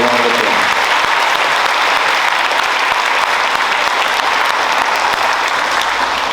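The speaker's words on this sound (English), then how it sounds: "Can we just give Master Sergeant a round of applause?" A school audience at an elementary school Veterans Day ceremony gives an Army master sergeant dense, loud applause. The clapping is steady and sustained for the whole stretch, with a faint crowd murmur underneath.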